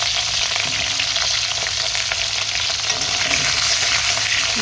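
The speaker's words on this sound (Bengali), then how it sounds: "এই আলুটাকে ভালো করে লাল লাল করে ভেজে নেব" Potato and cauliflower pieces fry in hot oil in a pan, a steady, loud, even sizzle with a faint hiss and occasional stirring scrapes, heard alone without any talking.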